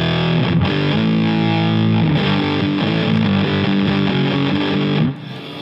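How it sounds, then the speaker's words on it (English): Electric guitar run through a Kingtone Mini Fuzz pedal with the volume turned up, producing a thick, saturated Big Muff-style fuzz on loud sustained chords and riffs that cut off abruptly near the end. "Maybe somebody likes this very sick Big Muff-like sound when you turn up the volume."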